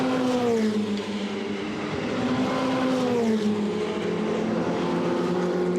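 Ferrari 488 Challenge race cars howl past at the Valencia circuit, loud and close, with engine pitch rising and falling as they go through the gears, plus brief tire squeal, steady and continuous with no talk.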